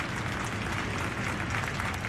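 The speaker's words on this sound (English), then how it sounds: "And a nice round of applause from the fans on both sides here." Fans at a Baron Cup semifinal hockey game applaud, a dense steady wash of clapping and crowd noise that holds evenly throughout, with no clear voices on top.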